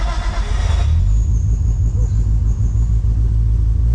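An 800HP Nissan S14 Silvia street car with an 8HP70 transmission swap starts up: a brief crank gives way to a loud, deep, lumpy idle that rumbles steadily up close.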